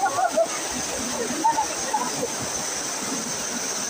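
Water at San Ysiro Falls in Antipolo rushes and splashes in a steady broadband roar, with a person talking briefly over it.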